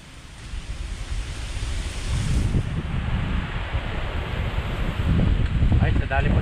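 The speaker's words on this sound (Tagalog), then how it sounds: "kahit malakas ang hangin" Strong wind rushes and buffets the microphone, building from a moderate roar to loud gusts, with a faint voice underneath.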